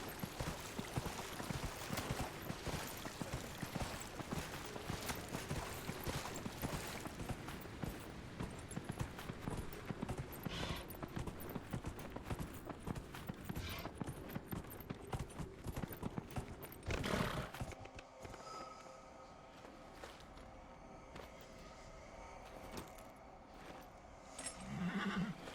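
Clip-clop of a Ferelden horse's hooves runs steadily and loud in a fantasy role-playing game. Several whinnies mix in, and after a sharp thump the scene thins to quieter ambience with lighter steps.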